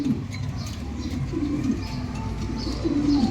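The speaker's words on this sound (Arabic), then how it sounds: "معانا ذكر قطاطي مستوى الله اكبر جامد جدا" Male Qatqati pigeon cooing in repeated low, throaty phrases, close and fairly loud against a steady background hum with faint other bird calls.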